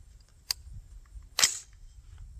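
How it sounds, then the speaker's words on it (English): A .223 rifle firing Winchester Power Point ammunition at a target block outdoors: two sharp reports, a fainter crack then a louder, fuller shot about a second later, heard at moderate distance over low background rumble. "I'm going to try a second shot on this block"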